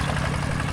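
A farm tractor engine idles and churns in a steady low rumble with a rough, even vibration, close and continuous, with no voices.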